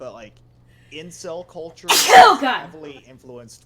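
A single loud sneeze bursts out partway through, mid-conversation, set between stretches of a person talking close to the mic.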